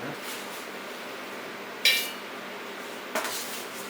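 Two sharp clinks of a hard mixer-grinder jar being set down, the first louder, against a quiet background hiss.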